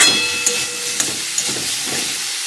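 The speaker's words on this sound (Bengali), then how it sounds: "ফুলকপিটা আর আলুটা এই তেলেতেই আমি সিদ্ধ করব" Cauliflower and potato pieces fry in hot oil in a kadai, producing a loud, continuous close hiss with a few small popping crackles.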